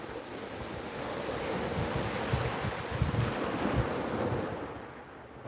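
Surf rolls continuously onto a beach at night, a steady broadband wash with low rumbling surges and a light breeze, heard close with no voices.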